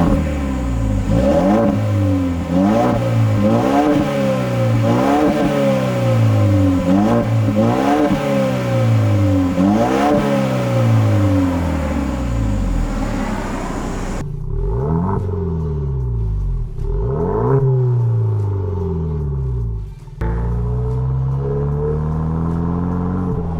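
A 2022 Ford Bronco fitted with a new Corsa exhaust revs repeatedly in a steady rhythm of loud, close throttle blips, then a few spaced, deeper revs follow after a brief quieter pause.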